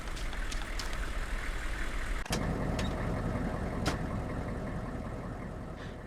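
A vehicle engine in ARMA 2 rumbles steadily at close range, a constant low drone with a few brief clicks and knocks partway through, no voices.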